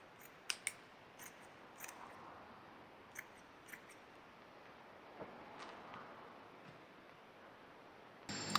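Scissors snip through an old t-shirt in a few sharp, spaced cuts, close and quiet against a hushed room, with a louder rustle at the end.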